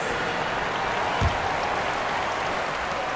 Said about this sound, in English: All right, fans, let's give some applause for this.